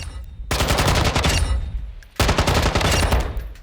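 Rapid automatic gunfire in Call of Duty Modern Warfare II comes in two loud, sustained bursts separated by a brief pause, close and dominant with no speech.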